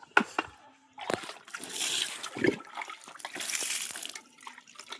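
Water splashes and pours in short bursts onto a vegetable garden with pumpkin and chili plants, close by, with a faint voice now and then.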